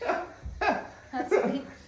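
A person imitating a weak cat meow, a few short strained vocal cries spaced apart, close and fairly quiet.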